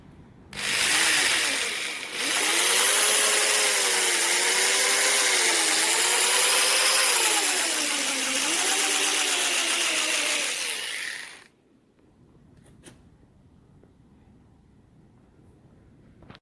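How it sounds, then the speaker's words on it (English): A power drill fitted with a buffing pad polishes cutting compound onto the headlight lenses of a Rover 75, a loud whining motor hum that wavers in pitch under load for about ten seconds before stopping into quiet. "So there's the cutting compound on the lenses now, and I'm just going to start with the drill."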